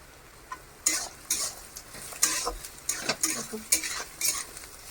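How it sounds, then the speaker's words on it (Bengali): Ginger, beans, carrot and capsicum are stir-fried in a pan for mixed fried rice, with a quick run of scraping stirs and metal clinks over a soft, constant sizzle, close by and moderately quiet. "এবার এটাকে আমি ভাজবো"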